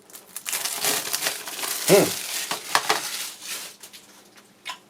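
Game box packaging for Final Fantasy 7 Remake is stabbed and torn open with an implement, giving close crinkling and crunching plastic wrap in busy bursts, one sharper crunch midway.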